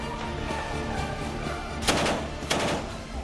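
Gunfire in the Syrian city of Al-Qusayr during shelling, sniper and artillery attacks: two sharp, loud bursts ring out about half a second apart over a constant rumbling, noisy background.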